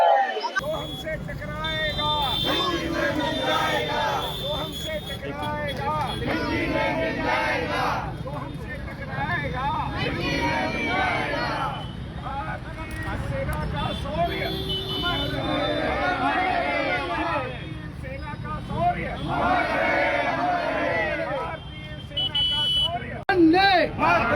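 A crowd celebrates and chants together at the Sherman tank in Nagpur, marking an air strike on Pakistan; dense, steady voices and cheering run loud throughout with a speaker talking over them.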